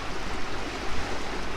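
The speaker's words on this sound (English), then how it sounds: "It's got a bit of water flowing through it." Steady broadband rush of water flowing through a lock on the Murray River, continuous and fairly loud, with no voices.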